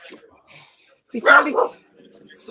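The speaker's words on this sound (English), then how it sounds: "excuse the dog." A dog barks a few short, sharp times nearby while people keep up a conversation over it.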